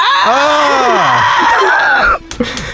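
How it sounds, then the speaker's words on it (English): During a geography quiz question, a contestant lets out a loud, wavering cry of anguish that lasts about two seconds, then trails off into short breathy gasps. "Anguish scream"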